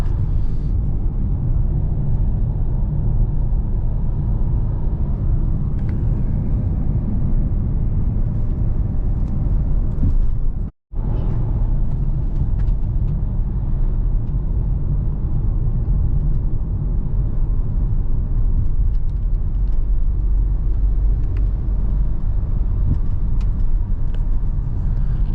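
A car drives into the Glencoe mountain range in Scotland, giving a steady low road rumble and engine hum from inside the vehicle throughout, with one brief dropout partway through.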